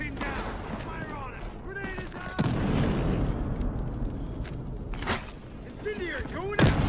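Gunfire and explosions from a Battlefield Hardline bank-map round keep up a dense, continuous clatter, punctuated by sharp bursts at a few points, while a player's voice talks over the battle.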